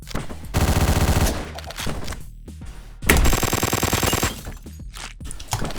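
Rapid automatic gunfire from an Uzi in a video game, two loud sustained bursts of fast shots with quieter game sounds between them.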